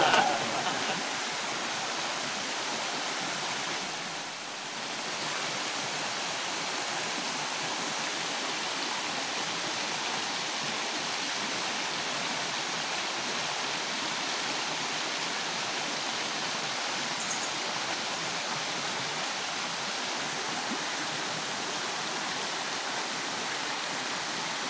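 A river rushes below a hillside among acacia and coconut trees in the rural Philippines, a constant broadband roar of flowing water, steady and fairly loud throughout with no clear voices.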